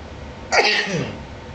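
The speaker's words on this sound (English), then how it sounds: "Excuse me, I gotta sneeze." A single sharp sneeze bursts out close by, a quick intake followed by an explosive release, in an otherwise quiet room.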